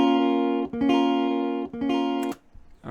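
A clean, undistorted guitar chord strummed repeatedly, several ringing strums with short gaps between them, close and fairly loud.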